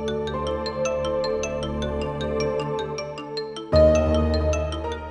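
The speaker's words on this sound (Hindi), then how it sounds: "ये किसका फोन बज रहा था?" A mobile phone ringtone plays a bright, repeating electronic melody with steady pulsed notes and sustained tones, fairly loud and alone, shifting to a fuller passage near the end.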